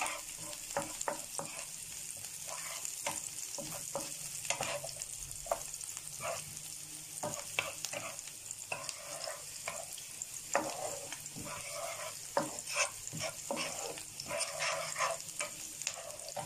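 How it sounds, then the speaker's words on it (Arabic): Onions are turned and fried in a pan until soft, a steady moderate sizzle broken by frequent spatula scrapes and knocks throughout, with faint barking of a dog somewhere in the background and no talk. "هنقلب البصل كده لحد ما يذل معانا"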